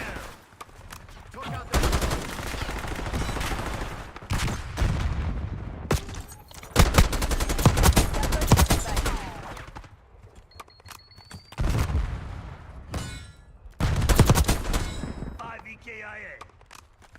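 Video game gunfire in bursts, loud volleys of rapid shots separated by short quieter gaps, with radio-style voices speaking between and over them.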